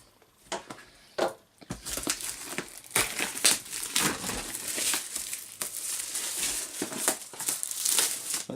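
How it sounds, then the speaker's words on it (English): Plastic wrap crinkles and tears off an EVGA GeForce GTX 780 graphics card box, a close, continuous busy crackling with sharper rips and rustles throughout, no talking. "Now let's get this plastic wrap off without trying to damage the box or cut my fingers off."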